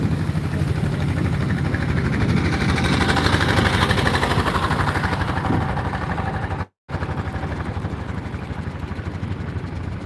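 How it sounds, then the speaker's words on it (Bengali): Boat and trawler engines run side by side on flood water, making a loud, steady engine drone that fills the whole stretch with no voices, broken only by a brief dropout about two-thirds of the way through. "একটি নৌকা এবং একটি ট্রলার পাশাপাশি যাচ্ছে"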